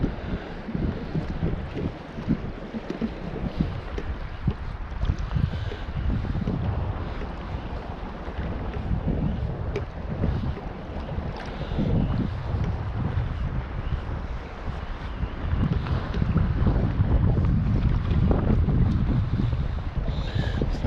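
Wind buffets the microphone over choppy water on Derwent Reservoir, with a constant rushing roar and surging wave noise throughout. No voices are heard.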